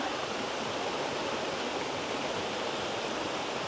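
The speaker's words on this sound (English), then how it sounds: "The stream is coming from the landfill." A small stream flowing from a landfill past a footbridge on a residential morning walk in Quezon City, heard as a steady, dense rush of water close at hand.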